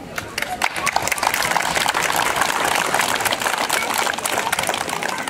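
A crowd gives sustained, dense applause at the 150th anniversary celebration of a volunteer fire brigade, loud and continuous, swelling quickly and holding steady.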